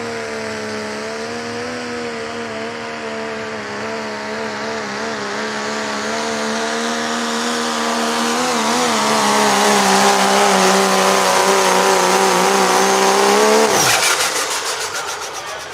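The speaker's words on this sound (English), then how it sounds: "Megatron, limited pro diesel pickup." Megatron diesel pickup in a limited pro race, engine roaring loud and steady with rising pitch as it accelerates hard, then cutting off abruptly near the end.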